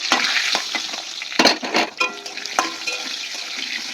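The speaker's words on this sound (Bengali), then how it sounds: "এবার আমি আলুগুলো ভাজবো" Steady loud sizzling of potatoes frying in a hot pan, with occasional scraping stirs and clatters, close up.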